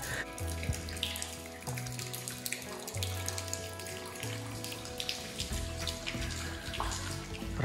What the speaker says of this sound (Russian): Откуда у нас только капает?